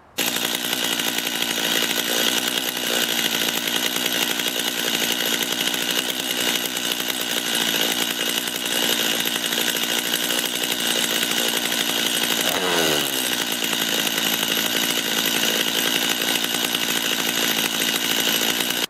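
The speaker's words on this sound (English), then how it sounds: "Now I'm going to start up the chainsaw, let it idle" A chainsaw runs steadily throughout, a loud, continuous close-up engine drone held at idle with a brief dip in pitch partway through, no voices.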